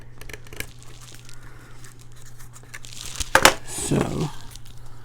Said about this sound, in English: and then I'll cut this away